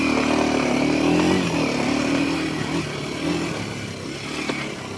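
A Kawasaki KLX 230 dual-sport motorcycle rides off road, its single-cylinder engine revving loudly and close, rising then easing off as the rider works the throttle over dirt terrain.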